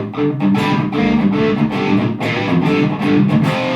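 An electric guitar plays through a heavily overdriven Fryette Sig:X amp, loud and gritty, with sustained distorted chords and short rhythmic breaks.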